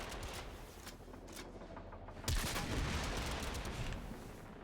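A video game weapon fires in cannon mode, loading up to three cannonballs, giving heavy booming shots with a burst of sharp blasts midway and a sustained rumble afterward, no talking.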